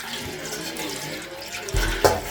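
Water splashes into a pan of browned pork for a Jamaican brown stew, a short pour landing near the end after a quiet stretch of kitchen noise.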